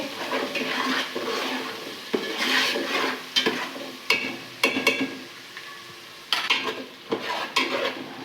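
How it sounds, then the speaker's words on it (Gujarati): Ginger, chili and garlic paste sautéing in a pan for Kathiyawadi undhiyu, a steady soft sizzle broken by sharp scraping strokes of a spoon against the pan, repeating unevenly throughout. "આદુ મરચાં લસણની પેસ્ટને થોડી સતળાવા દેવાની છે."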